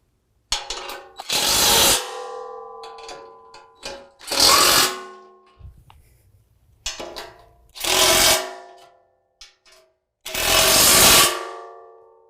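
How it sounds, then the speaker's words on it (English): Bolts on a Steelcraft full-width front bumper for a 2019 Jeep JL are run down with a 16 millimeter socket, heard as four loud, separate bursts of a power tool with brief clicks and quiet pauses in between. "you can go ahead and tighten them all down with a 16 millimeter"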